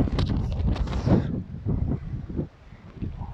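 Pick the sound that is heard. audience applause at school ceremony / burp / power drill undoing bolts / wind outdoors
wind outdoors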